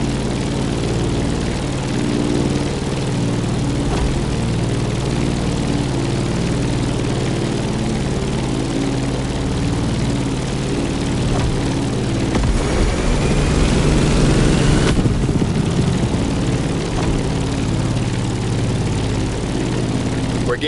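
A propeller plane flies over Hawaii in The Crew Motorfest racing game, its engine a continuous low droning hum with a brief louder swell near the middle.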